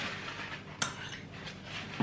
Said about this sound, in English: So now I'm just going to pop the butter into a cup to heat up and